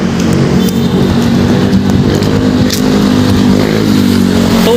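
A motorcycle rides up onto the C5 Quirino flyover in Las Piñas, its engine droning steadily and loudly throughout, close and continuous with road noise and no speech.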